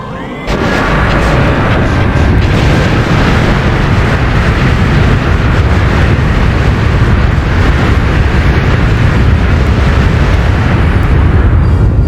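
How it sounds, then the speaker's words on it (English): Core and tunnels explode in a Nintendo 64 Star Wars game, a loud continuous roar of rumbling blasts and bursts that holds without a break for the whole stretch. "We make one last run through the core towards the exit as the tunnels explode around us"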